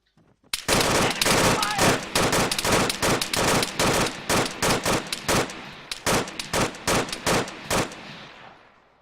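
Automatic gunfire in a military video game firefight, with long rapid bursts of loud close shots in quick succession, broken by brief pauses before fading out.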